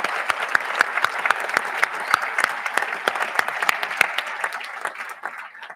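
A school speech-day audience claps warmly and densely for their departing governor, Miss Nightingale. The applause is steady and close, then thins and fades toward the end.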